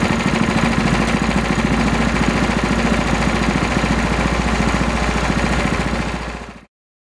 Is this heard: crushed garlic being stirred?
no